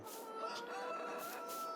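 Chickens on a farm in Farming Simulator 22, clucking and crowing continuously at a moderate distance with no talk over them.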